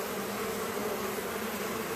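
A dense, continuous drone rises from a crowd of honey bees in an opened midsummer hive, steady and close with no voices over it.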